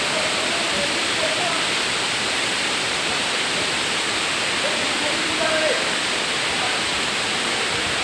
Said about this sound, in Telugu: సరిగడు వాటర్ ఫాల్స్ ఎలా ఉంది.